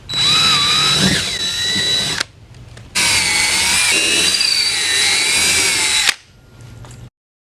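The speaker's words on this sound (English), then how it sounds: "So after you've drilled the holes" A power drill boring holes for window awning brackets, loud and close, running in two long sustained bursts with a short pause between and its pitch wavering under load, no talk.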